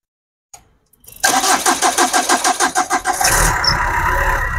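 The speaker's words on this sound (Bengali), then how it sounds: "ভাই একটু স্টার্ট করেন তো ইঞ্জিনটা।" A 2013 Tata Indigo car's engine is started nearby: a faint click, then a rapid rhythmic churn of cranking for about two seconds before it catches and settles into a loud, even idle.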